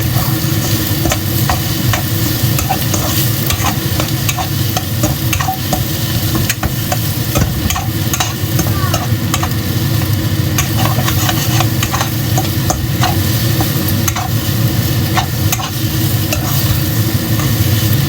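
Egg fried rice (chaofan) with egg being stirred continuously in a pan, a steady loud sizzle with scraping and clinking of the utensil throughout, backed by a constant low rumble.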